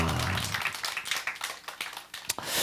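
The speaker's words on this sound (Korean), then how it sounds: "우리 다시 한번 격려와 박수를 드리기를 원합니다." A church congregation gives a round of encouraging applause for the pastor and his wife, a dense, fairly close burst of clapping that thins toward the end.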